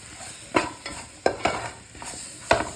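Chili powder and coriander powder are stirred in a hot pan, with four or five distinct scraping strokes of the spoon spaced about a second apart over a soft, continuous frying hiss.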